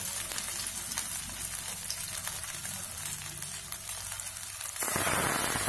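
Rohu fish frying in hot oil in a pan, Andhra style, gives a continuous close crackling sizzle that grows louder and brighter in the final second.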